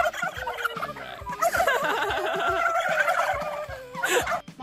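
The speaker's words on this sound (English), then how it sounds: "Mama turkey with her baby turkeys." A turkey hen gobbles and clucks in a rapid, warbling series near the microphone, with a couple of louder bursts toward the end, among other soft fowl noises.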